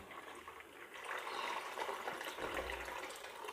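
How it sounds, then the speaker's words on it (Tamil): Water splashes and gurgles steadily as it is poured into a pot of fish curry, a faint continuous liquid rush in a home kitchen with no talking. "இப்போ தேவையான அளவு தண்ணி சேர்த்தாச்சு."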